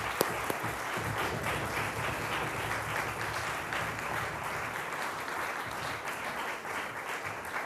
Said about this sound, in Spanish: creo que podemos darle un aplauso